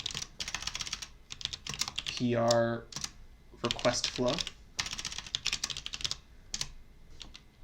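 Bursts of fast clacking keystrokes on a computer keyboard with worn, unreliable E keys, broken by short pauses, while someone talks over part of it.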